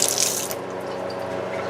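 Running water from a kitchen tap while a fingertip is wetted to seal a fried apple pie crust: a close, steady splashing stream with a brighter gush at the start.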